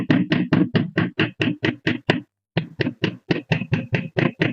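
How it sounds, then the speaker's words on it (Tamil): A hammer raps slag flux off the second layer of a weld bead in quick, sharp metallic knocks, about ten in a fast run, a brief pause, then another run of similar taps, close and loud. "இந்த 2வது லேயர்ல இருக்கக்கூடிய மேல இருக்கக்கூடிய ஃபிளக்ஸை தட்டுவோம்."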